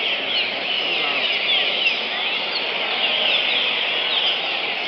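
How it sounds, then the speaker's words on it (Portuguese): A crossbred songbird sings continuously and loudly close by, a dense unbroken run of high, bright trills and chirps with no pauses across the whole stretch. "Ó, ele tá cantando, voltou a cantar de novo, legal."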